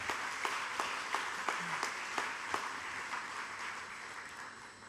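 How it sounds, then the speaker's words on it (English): An audience applauds at a hospital's second anniversary celebration in Fiji: dense, steady clapping with a few sharper claps standing out, gradually fading toward the end. "I think that deserves a round of applause too"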